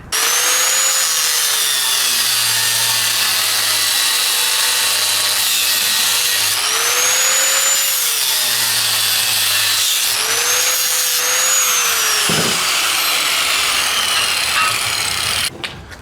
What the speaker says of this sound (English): I'm going to cut the end of this bolt off with a regular angle grinder